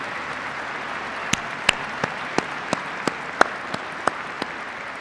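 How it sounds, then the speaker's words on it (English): Troops at Bagram Airfield applauding, a steady moderate clapping crowd with several sharp, distinct individual claps popping out at irregular intervals. "Give yourselves a round of applause."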